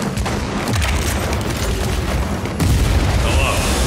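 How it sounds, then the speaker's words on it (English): Friendly airstrike explosions in the video game World War 3, heavy booms rolling one into another as a dense rumbling barrage with a fresh surge near the end. "Friendly airstrike."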